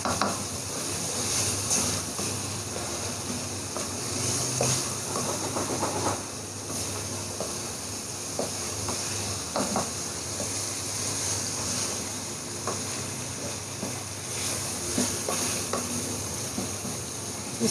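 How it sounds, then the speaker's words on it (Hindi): Tinda (apple gourd) being fried with spices in a pan for a Punjabi sabzi: a continuous soft sizzle and hiss with occasional scraping and stirring clatter, faint and steady, with no talking. "इसको हम 2 से 3 से 4 मिनट के लिए हम इसको भून लेंगे मसाले के साथ"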